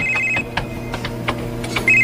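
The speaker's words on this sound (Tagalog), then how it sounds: "Si Dennis kining nanawag" A telephone rings with an incoming call, its electronic tone repeating in short bursts over a low steady background, moderately close and loud, with no talking.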